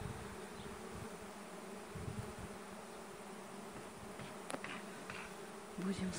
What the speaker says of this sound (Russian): Столько пчел надо мной летает.